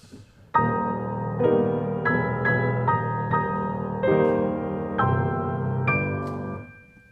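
A slow, heavy piano passage depicting elephants, with low, ponderous chords struck one after another, each left ringing before the next, fading out at the end.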